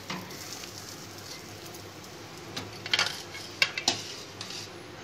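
Spiced mashed potato filling for a sandwich being mixed in a bowl, quiet background hiss with a few sharp metallic clinks of a spoon against the vessel toward the end, close and without talk.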